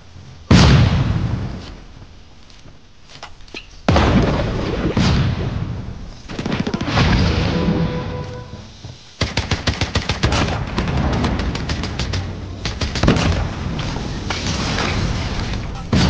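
A grenade explosion in Call of Duty Mobile lands amid loud bursts of gunfire and booming blasts, with sharp impacts and rapid shooting spread over a noisy multiplayer match.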